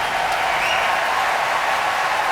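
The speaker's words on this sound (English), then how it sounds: "Alicia Bortnes, quite rightly, getting her applause." A concert audience applauds a soloist performing with the Oslo Philharmonic, a dense, even wash of clapping that holds steady from start to finish.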